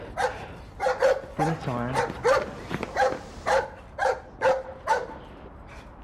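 Dogs barking repeatedly in short, loud bursts at a tense police confrontation, with a voice talking over and between the barks.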